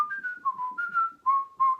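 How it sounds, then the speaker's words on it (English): A person whistles a tune alone: clear, close, sustained pitched notes in a short melodic phrase that steps up and down, with brief gaps between the notes. "he began to whistle a tune. Can you whistle?"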